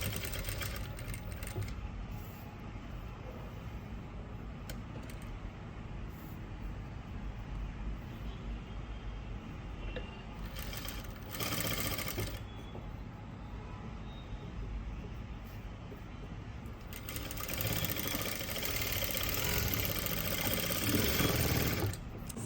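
A sewing machine stitches an umbrella-style dress in a steady, continuous whirring run, fairly quiet and close, with brief pauses and a louder stretch near the end; no talking is heard.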